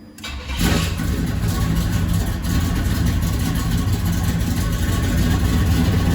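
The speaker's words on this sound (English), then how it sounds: "Hear the EFI kick in." A 1972 Impala with EFI cranks and fires on a cold start, then settles into a steady, loud idle with a fast, high cold-start rumble.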